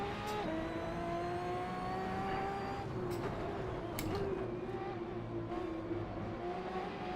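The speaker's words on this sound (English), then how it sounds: "the sound of this engine through the headphones is just glorious" Race car engine in a sim racing game played through a Logitech G25 wheel, holding a steady high whine that rises and dips with gear changes and revs, continuous and close throughout.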